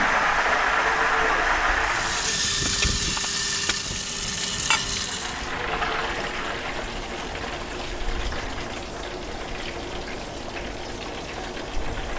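Steady, crackling sizzle of food deep frying in hot oil, continuous throughout, with occasional stirring clinks near the start.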